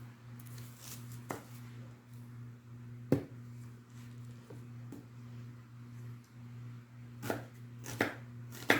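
A knife finely chops half an onion on a board, a steady run of soft, close taps with a few sharper knocks, over a faint low hum.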